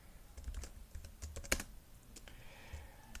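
Typing on a computer keyboard while entering a simple conditional test in VisualG code, with a steady run of close, light key clicks and one sharper tap near the middle. No voice is heard.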